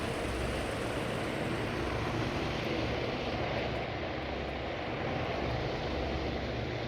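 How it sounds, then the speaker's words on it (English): Fighter aircraft engines roar as planes launch from an aircraft carrier in a naval combat game, a steady, dense, unbroken drone holding at even loudness throughout. "Looks like all of our fighters have taken off."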